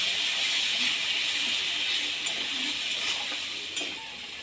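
A paste of ground dried chilli and turmeric sizzles and hisses in a hot pan of oil as it is stirred, a steady loud frying hiss with faint scrapes.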